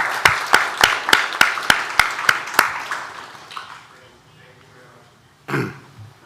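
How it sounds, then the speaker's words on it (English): About nine evenly spaced claps ring out loud and near, then fade into quiet room noise as a panel session of a climate forum closes. A brief voice or cough follows. "we're going to give a round of applause to our panelists"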